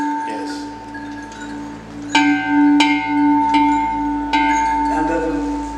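Church bells in Austria ring out in a series of clear, evenly spaced strokes with a lingering hum between them, while faint voices can be heard in the background.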